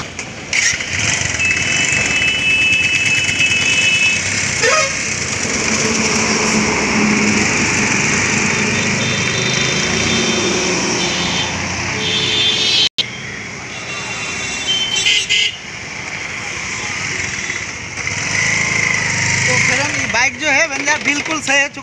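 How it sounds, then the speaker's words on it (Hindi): A Bajaj Avenger motorcycle runs on a test ride after servicing for a suspension bush problem, its engine droning loudly and steadily near the listener, with a voice talking over it and a brief cut midway. "ये हो गया एवेंजर, अभी हम लोग चला के दिखाते हैं।"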